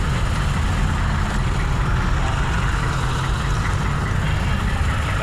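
Heavy traffic sits at idle: car, truck and bus engines keep up a dense, continuous low drone that holds steady throughout.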